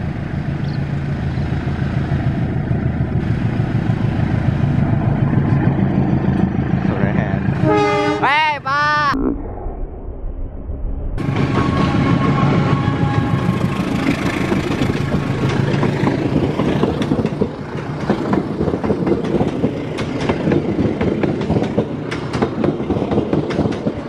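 A Cibatu local train rumbles through Gedebage station with a loud, continuous rolling drone and rail clatter, and a sharp horn blast partway through, close by.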